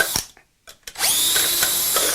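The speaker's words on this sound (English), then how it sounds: "And that's why I took the drill." A power drill bores holes for a mini hydroponics setup: a couple of brief clicks and short whirs with a pause, then the drill revs up to a loud, steady high whine that runs to the end.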